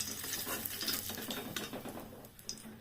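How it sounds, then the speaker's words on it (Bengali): Shrimp frying in oil in a wok, a soft crackling sizzle mixed with metallic stirring and scraping, faint and close without speech. "যা তেল আছে এই তেলের মধ্যে আমি এবার চিংড়ি মাছটা দিয়ে ভাজবো।"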